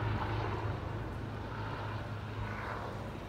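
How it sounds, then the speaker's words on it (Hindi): A helicopter passes over the large Sheikh Zayed Grand Mosque in Abu Dhabi, giving a steady, moderately distant rumbling drone that holds evenly throughout with no speech. "ये हेलीकॉप्टर गुजर रहा है"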